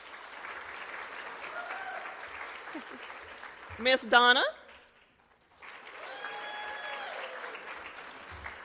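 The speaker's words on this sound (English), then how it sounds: "Everybody give her a round of applause." An audience applauds a teaching assistant at a staff training session, a steady round of clapping that swells, breaks off for a short spoken name, then resumes at similar strength.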